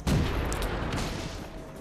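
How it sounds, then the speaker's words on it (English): A tank cannon shot in World of Tanks lands as a heavy boom at the start and then rolls out into a low, rumbling tail. "Put a couple of shots in there."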